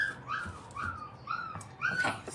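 Dogs being given bone broth whimper and whine in a series of short, high, rising cries, several in quick succession, fairly quiet and close, with no speech over them.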